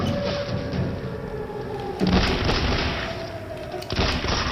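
Gunfire in the video game The Bureau: XCOM Declassified, with two sharp booming shots around two and four seconds standing out over a constant dense game-noise bed, no voices.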